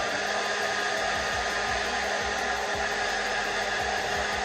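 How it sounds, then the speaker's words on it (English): A hair dryer runs on heat, blow drying a lace frontal wig with a steady, loud, close whirring roar that holds constant throughout without pauses. "And you want to blow dry it on heat."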